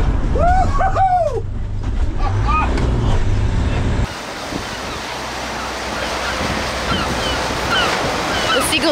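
Seagulls call at an ocean beach, a few sharp cries at the start over rushing surf and wind noise, after which the waves and wind carry on with faint calls.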